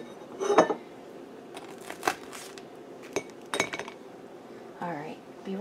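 Plates and dishes are handled in a home kitchen, producing several separate clinks and clatters of crockery and cutlery at irregular intervals, with a faint rustle and no talking.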